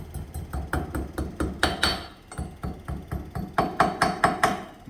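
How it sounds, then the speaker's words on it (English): A hammer taps steadily on a metal bearing part of a Can-Am X3 Turbo RR side-by-side, sharp close-up strikes in an even rhythm of about three per second, with no talk. "then you can just tap it with a hammer and it makes it super easier."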